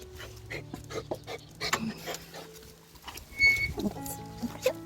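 A dog pants in quick, uneven breaths close by, with scattered shuffling, clinks and small squeaks around it.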